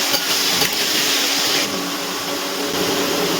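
Potatoes fry in oil with turmeric and salt, giving a loud, close, continuous sizzling hiss that holds steady throughout with slight surges.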